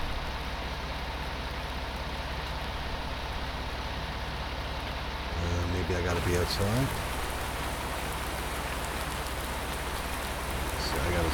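Steady rain hisses in Farming Simulator 19 on an Irish farm, a constant wash of rainfall heard from inside a tractor cab that grows brighter and more open partway through, with someone speaking briefly.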